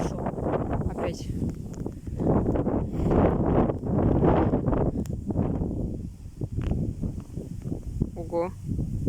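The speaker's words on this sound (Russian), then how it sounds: "Ветер пошел. Опять." Strong gusts of wind sweep across an open field during a storm, buffeting the microphone in loud surging waves, with trees thrashing and people talking at times under the roar.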